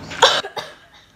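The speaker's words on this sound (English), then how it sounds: "I didn't mean to cough in the mic" A single sharp cough close to the mic, followed by a softer second catch and quiet breath.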